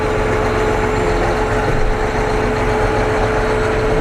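A Kooima Ag Trner compost turner runs with its PTO engaged, giving a loud, steady heavy-engine drone with a constant mechanical hum throughout.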